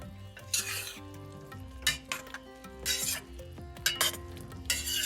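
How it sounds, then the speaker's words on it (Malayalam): Cauliflower added to a simmering Kerala-style mixed vegetable curry and stirred, with repeated spoon scrapes and clinks against the pot over a bubbling sizzle, close and intermittent. "ഇനിയും ഞാൻ ഇതിലേക്ക് കോളിഫ്ലവർ ചേർക്കുകയാണ്"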